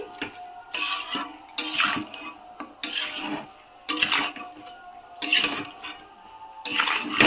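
Raw chicken being mixed with turmeric, salt and oil in a metal bowl: bursts of scraping, clinking and wet squelching stirring come in repeated rounds, separated by brief pauses, close and moderately loud.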